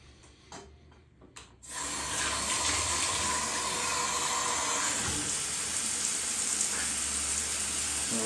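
An Aquadance shower head turns on under low water pressure, starting after a brief rustle and then running as a steady, hissing spray of water that stays constant and close.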